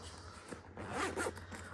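Zipper pulled open on a Tom Bihn Handy Little Thing 2 bag, a short rasping slide of under two seconds, close and fairly quiet, with no talking over it.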